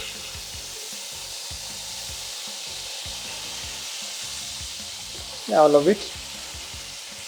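Potatoes and onions frying in a wide pan over high heat give a steady, close hiss of sizzling throughout, and a voice speaks briefly near the end.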